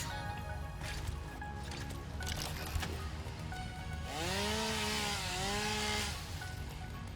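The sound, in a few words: chainsaw cutting in the video game Satisfactory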